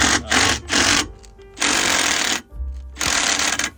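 A power drill with a nearly dead battery whirs in several loud bursts, revving up and stopping with short pauses between runs, close by and without talk.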